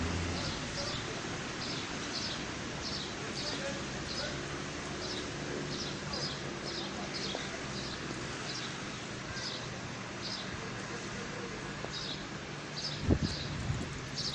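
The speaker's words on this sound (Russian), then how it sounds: "Весна. Громко щебечут птицы." Birds chirp in repeated short bursts across a town square outside a cinema on a March spring day, set against steady wind noise and rustling, with a brief knock near the end.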